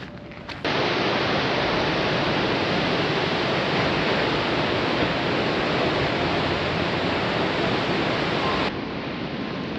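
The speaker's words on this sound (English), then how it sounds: "We just walk into the sounds of the sea." Sea waves on the Portuguese coast along the Fisherman's Trail between Almograve and Odeceixe make a loud, unbroken roar of surf that holds steady for several seconds, then drops away abruptly.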